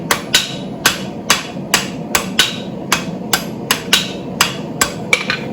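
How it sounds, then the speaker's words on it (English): Blacksmith's hammer striking hot steel while forging a pair of tongs: a dozen sharp, ringing blows at a steady, slightly uneven rhythm, loud and close, with a low background hum between strikes. "hammering some areas that I may not have an opportunity to get to later"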